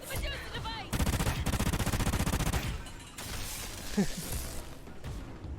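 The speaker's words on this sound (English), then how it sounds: "the gargoyles end up sniping me from like outside of the map" Gunfire from gargoyle enemies sniping at long range in a hardcore Exodus video game, with bursts of rapid, loud shots and impacts, a dense volley in the middle, under some game noise.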